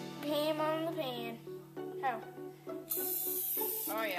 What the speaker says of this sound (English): now we take our pan and we spray